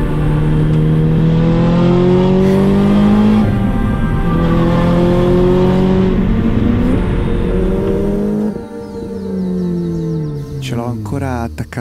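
A Lotus Exige S GT Special Edition engine revving hard while driving, loud rising and falling harmonic roar through several gear pulls, ending in a sharper burst of revs near the end.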